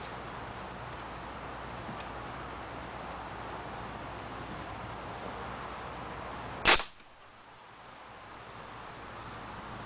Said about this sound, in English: I'll grab my staple gun.